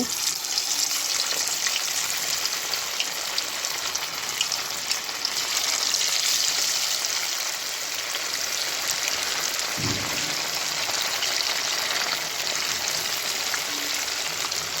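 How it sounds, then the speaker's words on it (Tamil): Masala-coated fish frying in hot oil in a kadai, giving a steady, loud, hissing sizzle that holds evenly throughout with one brief low thump midway. "ஆயில் சூடாகிடுச்சு இந்த டயத்தில் நம்ம மசாலா தடவி வச்சுருக்க மீன் எடுத்து போட்டுக்கலாம்"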